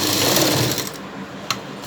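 A sewing machine runs in a short steady burst while stitching blouse fabric, then slows and stops, with a faint click near the end.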